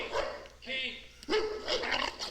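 A frightened dog turning from reactive to aggressive while guarding its scared owner, loud close barks and yelps in short bursts, with a person talking over them.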